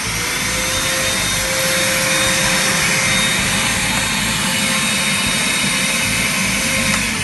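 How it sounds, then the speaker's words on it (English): A vacuum cleaner used for cleaning an ice rink mop drones loudly and steadily at close range, a constant whooshing roar with a faint whining tone, no voices. "Bring the mop over to the vacuum cleaner."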